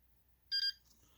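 A signal light bar controller gives a short electronic buzzer chirp, a single bright tone lasting about a fifth of a second, close and clear against near silence.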